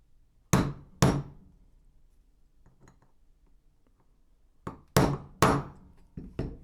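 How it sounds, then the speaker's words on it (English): A hammer drives a 1/8 inch punch into the slide of a Ruger LCP II Lite Rack .22LR while an extractor spring is fitted: sharp metallic taps, two quick strikes, a pause, then a cluster of about five more. "You actually want to take your 1/8 inch punch and just kind of finish it off."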